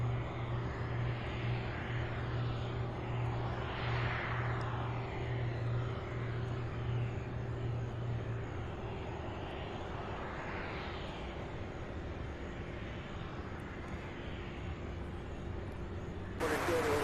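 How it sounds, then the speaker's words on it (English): A distant MD-11 airliner takes off from runway 35 right at Louisville's SDF airport, its engine roar a faint, steady rumble that swells and fades in broad sweeps, heard from afar without talk. "So there's one clear for takeoff on 35 right. I believe that's an MD-11."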